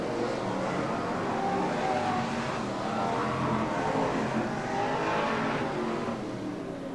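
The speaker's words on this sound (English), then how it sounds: "So then, all the cars circulating around the opening lap." BriSCA F1 stock cars race around an oval circuit at Skegness in a 1994 heat, with a steady, dense roar of many engines circulating at some distance and no talk over it.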